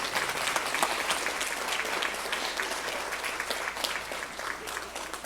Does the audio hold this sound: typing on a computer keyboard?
no